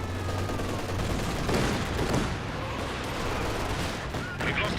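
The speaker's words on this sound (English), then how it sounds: "The barrage hits the Grenadiers." Artillery barrage and gunfire in the Company of Heroes 2 strategy game, a dense, continuous battle roar of overlapping explosions and rattling shots with no gaps.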